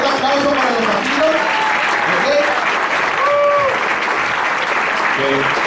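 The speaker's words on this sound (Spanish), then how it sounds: "un fuerte aplauso para los Zafiro" An audience at a company recognition event applauds loudly and continuously, with people talking and calling out over the clapping.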